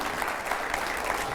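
Studio audience applause welcoming a guest onto a TV news show, a dense, continuous wash of clapping from many hands, steady and fairly loud for a brief moment.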